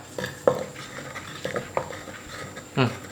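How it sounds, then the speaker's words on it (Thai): A spoon stirs pomelo salad dressed with sugar, fish sauce and crab paste, giving soft scattered scrapes and clinks against a bowl at irregular moments, fairly quiet and close, with no voices. "คนไปเรื่อย ๆ ทั้งน้ำตาลทราย ทั้งน้ำปลานะฮะ"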